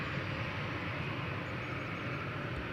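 Boeing 737 airliner engines at Schiphol Airport give a steady, broad roar of jet noise holding short near the runway, continuous and moderately distant with no voices.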